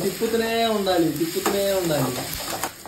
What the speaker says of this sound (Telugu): పచ్చిమిరపకాయలు, ఉల్లిపాయలు. అమ్మో. తిప్పుతూనే ఉండాలి.